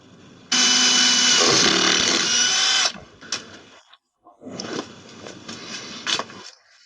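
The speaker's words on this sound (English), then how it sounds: "I'll drill holes around the perimeter of this drum at the joint" A power drill boring 4mm holes into a washing machine drum, a loud steady high-pitched whine lasting over two seconds, then quieter stop-start bursts of drilling with brief clicks, close to the listener with no talking.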